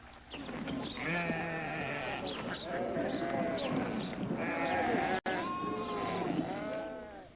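Sheep bleat repeatedly, several animals calling close by in overlapping, wavering cries.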